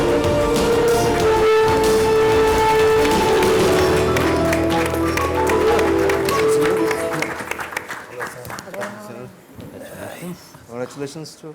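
Applause as a business guest is welcomed onto the stage at a press conference, steady crowd clapping mixed with music that fades out, followed by people talking.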